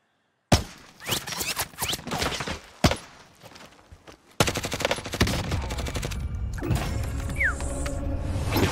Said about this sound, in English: Shots, I guess.